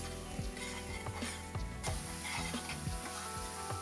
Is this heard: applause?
no